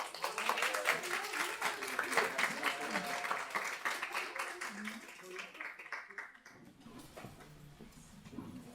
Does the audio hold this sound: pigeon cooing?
no